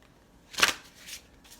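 Affirmation cards for a tarot reading are shuffled in one brisk riffle, then a couple of softer card rustles follow, close and quiet, with no talking.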